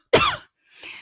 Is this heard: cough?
yes